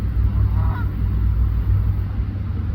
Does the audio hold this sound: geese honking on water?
yes